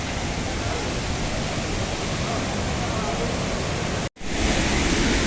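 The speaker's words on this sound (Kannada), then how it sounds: "ಇವಾಗ ಕೆಳಗಡೆ ಹೋಗ್ತಾ ಇರೋದು ಫಾಲ್ಸ್ ಒಳಗಡೆ" Waterfall at Horanadu roars as a dense, loud, continuous rush of falling water heard up close, with a brief cut near the end before the roar resumes.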